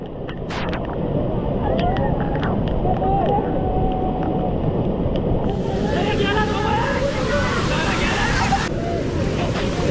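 Rushing water of a mountain waterfall near Mahad in Raigad, coming down the hillside as a continuous loud roar, with people talking over it throughout.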